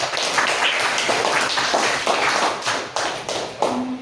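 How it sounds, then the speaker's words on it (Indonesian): Classroom applause for the second group of students: a steady patter of many hands clapping at close range for a few seconds, with no talk over it. "Aplaus untuk kelompok kedua."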